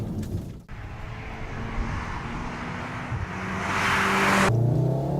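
Volkswagen Golf R engine droning at speed near 90 mph during a drive, a steady muffled hum with road and wind noise that builds louder toward the end before cutting off abruptly.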